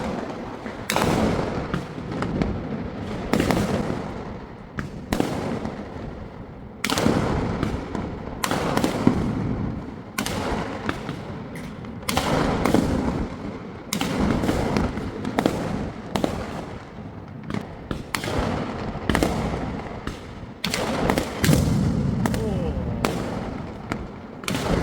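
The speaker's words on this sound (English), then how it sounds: "we were able to see beautiful view from our balcony of the firecrackers." Diwali firecrackers and fireworks going off in a continuous barrage, heard from a high-rise balcony, with sharp bangs and crackles following one another in irregular bursts, some near and loud, others distant.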